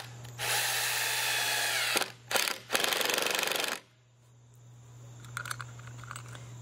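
Impact wrench driving screws into the base of a flow-through worm composter, with two long, loud, close hammering bursts and a short one in between, then quiet with faint rustling afterward.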